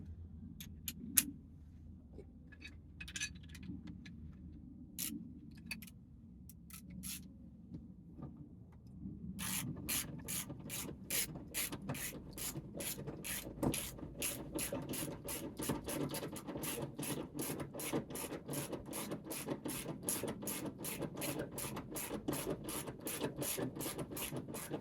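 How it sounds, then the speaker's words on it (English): A hand ratchet with a 17mm socket tightens a capped 17mm bolt on a fold-down camper bed in a Transporter van. After some quiet handling and a few knocks, a long run of fast, even ratcheting clicks follows, close and clear. "17mm socket."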